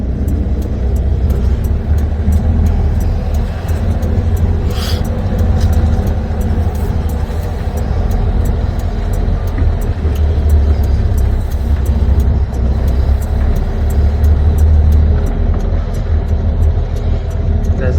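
A semi truck hauls a trailer out of a dusty yard, its engine a loud, steady, close rumble that runs unbroken throughout.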